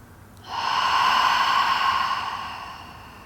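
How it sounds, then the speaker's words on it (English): A long, deep inhale during a yoga breathing practice, a close, steady rush of breath that swells in after a quiet start, holds for about two seconds and then gently fades, with no talking. "deep inhale"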